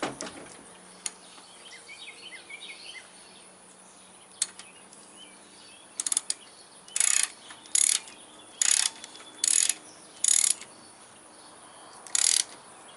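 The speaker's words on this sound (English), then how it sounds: "This is a left-handed nut, so I'm loosening it right now by going where you normally go to tighten it." A wrench works loose a left-handed car wheel bearing nut, giving a series of crisp ratcheting clicks in short bursts, close by and fairly loud against a quiet background.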